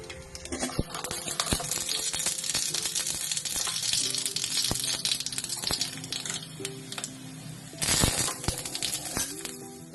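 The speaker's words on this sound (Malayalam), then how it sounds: "കടുക് വറുക്കാം." Mustard seeds frying in hot oil for a tempering over prawn curry, a continuous sizzle dotted with many sharp pops and crackles at irregular intervals, close and fairly loud.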